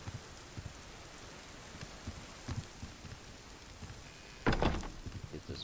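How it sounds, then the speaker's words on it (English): Light rain pattering steadily on a surface, with scattered louder drops and a brief heavier splash burst near the end. "Oh, it is raining."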